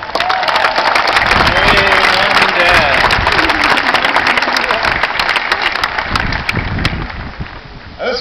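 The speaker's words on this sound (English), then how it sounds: "give them all a big round of applause" A dense roar of clapping and cheering fills an Air Force Academy graduation for the graduates' families, loud and continuous from a large crowd, easing slightly toward the end, with a voice heard over it.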